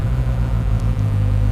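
Suzuki GSX-S1000 motorcycle engine starting up and settling into a steady, deep idle, close by and continuous with no talk.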